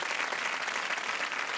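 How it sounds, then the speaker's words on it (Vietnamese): A studio audience at a Vietnamese TV talent show applauds in a thick, even wash of clapping that holds steady and fairly close for the whole short stretch, with no voices over it. "Chị muốn mọi người vỗ tay cho em."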